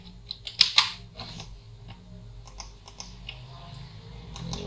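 Keystrokes typing a wrong password into a Windows computer keyboard: a quick cluster of sharp clicks early on, then sparse lighter taps over a low steady hum.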